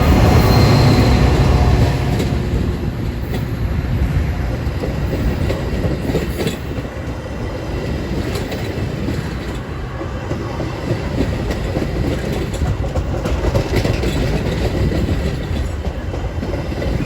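A Metra commuter train on the Union Pacific Northwest line rolls slowly over the Barrington diamond crossing. Steady, rhythmic clickety-clack of wheels over the rail joints runs throughout, with faint wheel squeal and no voices.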